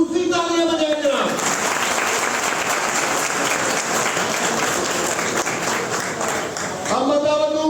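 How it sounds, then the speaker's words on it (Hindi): At a pigeon tournament prize ceremony, the crowd breaks into steady applause for a visiting Punjab champion, dense clapping that rises after someone speaks over a PA and fades as his voice returns. "इनके लिए जनाब खुसूसी तालियां बजाएं जनाब"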